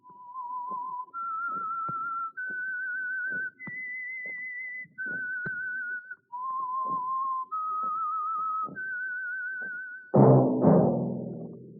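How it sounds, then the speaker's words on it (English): A lone, clear whistled melody of sustained notes, each held and stepping up and down in pitch, opening an old-time radio mystery drama, with soft orchestral hits behind it before a brassy musical sting at the end. "That whistle is your signal for the Signal Oil program, The Whistler."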